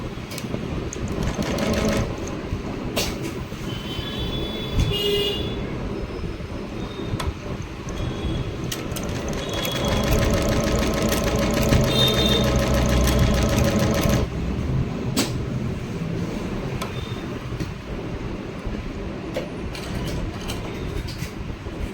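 A computer embroidery machine stitching a double-bead design with 3 mm pearls runs in a rapid mechanical chatter, louder and denser through the middle, with clicks and whirs at the start and end.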